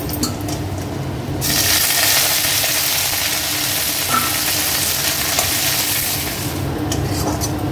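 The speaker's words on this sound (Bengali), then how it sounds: "এখানে দেখো কারি পাতাটা আমি খুব বেশি ভাজিনি, হালকা একটু ভেজেছি।" Garlic and curry leaves fry in a pan for dal. A loud, close sizzle surges in after a quieter start, holds as a dense hiss for several seconds, then drops back, with no speech over it.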